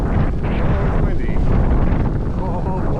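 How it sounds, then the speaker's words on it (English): Strong wind buffets the microphone nonstop at a ski hill in a blizzard with severe wind chill, a loud, constant roar with a voice partly buried beneath it. "Oh my god, it's windy."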